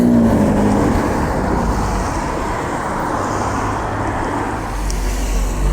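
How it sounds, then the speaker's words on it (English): Steady street traffic on Blackpool promenade on a wet winter evening, a continuous broadband road rumble of passing cars with a low engine drone underneath, moderately loud and constant throughout, with no talking. "Look at all this traffic."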